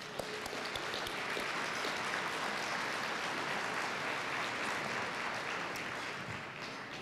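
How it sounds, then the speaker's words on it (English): A gala audience applauds, a dense, even roar of many hands that holds steady for about seven seconds with no voices over it. "So please give them all a round of applause."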